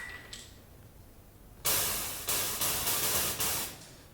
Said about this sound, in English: This is the white noise I'm always using.